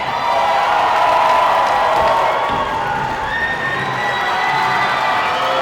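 A sold-out wrestling crowd at the Bryn Center in Lethbridge, Alberta, cheers and shouts in a steady, loud roar that fills the arena without letup.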